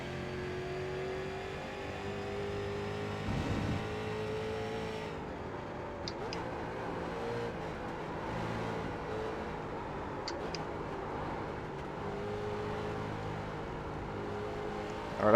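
Street stock race car engine in the iRacing video game at Rudskogen, a continuous loud revving drone that rises and drops in pitch as it shifts through gears, heard alone without talk.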